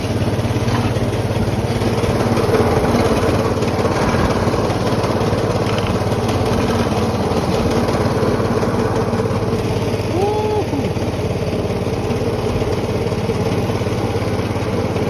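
Snapper riding lawnmower with a Briggs & Stratton engine runs at a steady, droning idle nearby for the whole stretch, a constant mechanical hum with no one speaking.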